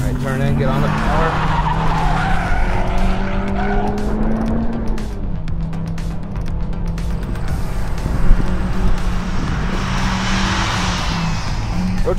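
Honda Civic Type R or Subaru WRX STI street car cornering hard on a race track, tires squealing and skidding over a loud continuous engine drone that rises and shifts through the turn, with someone talking over it.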